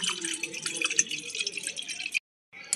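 Water pouring into a pot for boiling cut jackfruit and eggs, a steady splashing gush that cuts off briefly near the end and then resumes, close and alone.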